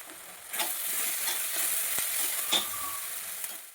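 Green chillies sautéing in oil in a pan for a Marathi breakfast made from leftover bajra bhakri, a soft steady sizzle with occasional stirring scrapes and light clinks, no voices.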